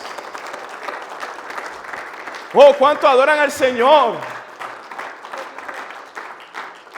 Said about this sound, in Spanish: Dele fuerte ese aplauso al Rey de Reyes